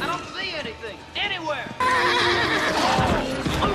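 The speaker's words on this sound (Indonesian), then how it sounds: "kuda mereka pun tiba-tiba dibuat panik" Panicked horses crossing a desert neigh in loud, shrill whinnies, several cries overlapping close by, then a sustained burst of agitated neighing with hoof noise.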